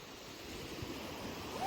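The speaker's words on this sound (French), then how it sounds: "Checkez comme il y a quand même des vagues." Ocean waves wash along a beach in Puerto Plata, a steady, soft roar of surf mixed with wind rustle, fairly distant and even throughout.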